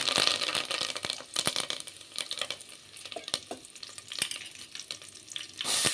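Cumin seeds and curry leaves sizzling and crackling in hot oil in a pan, a steady close frying hiss with sharp pops and a few stirring scrapes, no speech.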